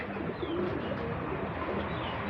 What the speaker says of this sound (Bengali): দেখেন চালের উপরে প্রচণ্ড কবুতর আমার।